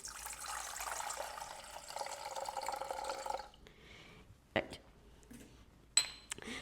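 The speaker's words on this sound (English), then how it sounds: "So I'm gonna add 200 grams of water." About 200 grams of water poured into a sourdough starter in a kitchen: a steady, close splashing pour lasting roughly three seconds, then quiet with a couple of faint clinks.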